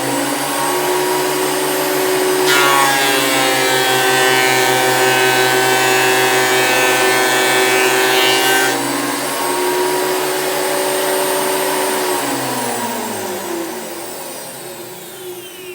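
A Makita thickness planer feeds wood through its cutter, a loud steady motor whine with a harsher cutting burst in the middle, then winding down near the end; no voices.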